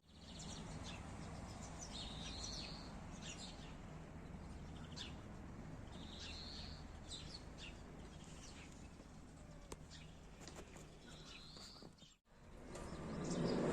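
Faint, short chirps from sparrows building a nest on a spring morning in an orchard recur every few seconds against a soft outdoor background.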